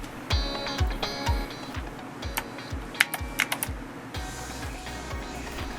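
Keys clack on an ABKO Hacker K660 ARC mechanical keyboard, an uneven run of close, sharp presses with some rapid clusters, heard alone without talk.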